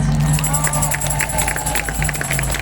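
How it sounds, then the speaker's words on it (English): A rally crowd in Halifax claps and cheers in a continuous patter of hands and voices, close and fairly loud, with a steady hum underneath. "I'm gonna get tired of clapping"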